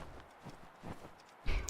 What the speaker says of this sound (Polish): a ja mogę przyzywać konia tak byle gdzie?